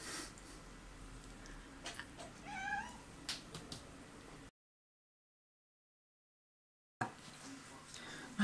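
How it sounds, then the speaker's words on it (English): A house cat meowing indoors at a crafting table, a few short rising meows up close amid quiet handling noises, followed by a stretch of silence and then faint sounds again. "Might get a visit from my other cat in a moment. He's trying to infiltrate."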